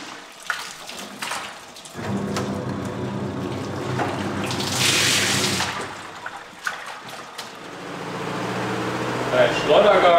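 Water rushes and splashes steadily while laundry is washed by hand outdoors in the Himalaya, a continuous close wash of flow with swelling surges, mixed with people talking throughout.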